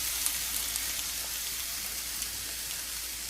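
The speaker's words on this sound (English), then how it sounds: "So got, I think, a pretty good sear on that." Flank steak sears on a hot grill, giving a steady, close sizzle with faint crackles throughout and no talking.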